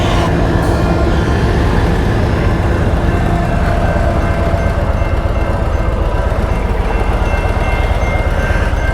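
A loud, continuous rumble of a train rolling past nearby, with rhythmic rattling of wheels on track and no talking.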